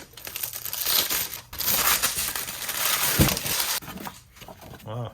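Ceiling fan blades are unpacked from their packaging with close crinkling and crumpling of plastic and cardboard, rustling bursts that rise and pause, and a brief voice near the end.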